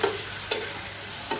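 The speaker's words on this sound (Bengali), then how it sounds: "এখন মশলাটা ভালো মতো কষানো হবে" Spice paste being sautéed with potatoes in a pan, a short burst of steady frying hiss broken by two quick spatula scrapes.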